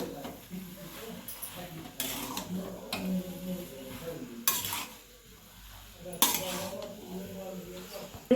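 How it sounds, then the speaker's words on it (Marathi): Spoon scraping and clinking against a pan as salt is stirred into a gavran-style vada pav potato filling, with uneven knocks and brief louder clatters at close range. "ह्यात आपण आता थोडं मीठ टाकूया पहिलं पण थोडं टाकले आता थोडंच टाकूया मिक्स करून घेऊया"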